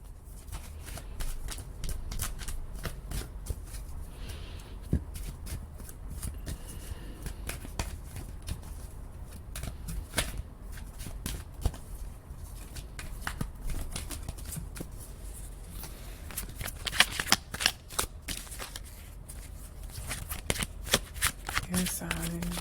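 Divine Feather Oracle cards are shuffled by hand in a continuous soft riffling patter that goes on throughout, with a person talking quietly over it.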